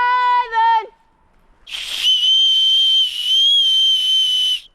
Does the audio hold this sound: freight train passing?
no